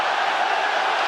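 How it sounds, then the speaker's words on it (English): Spectators at a UFC Fight Night bout roar in a steady, dense wash of cheering during round two, loud and continuous with no break. "Sparked on by the crowd."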